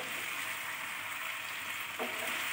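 Pepper chicken cooks in a pan in a village kitchen, giving a steady, close hiss of frying with a soft knock near the end, as if stirred, and no voices.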